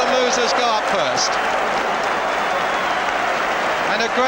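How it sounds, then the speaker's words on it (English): Football crowd at a 1973 League Cup match between Tottenham Hotspur and Norwich City applauding the team, a broad, steady roar of clapping under a commentator's voice. "a great round of applause from the side who came here"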